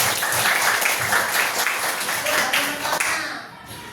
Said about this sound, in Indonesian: Tepuk tangan untuk Safira